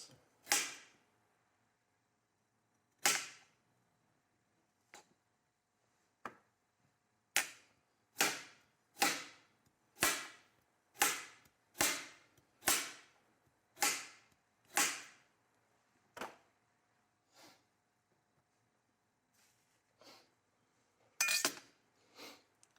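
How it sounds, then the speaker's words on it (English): Carrots are chopped on a cutting board, a series of sharp knife strikes landing in an uneven rhythm, a quick run in the middle, then sparser, softer taps and a final double knock. "And then we just continue to chop until we're done all the carrots."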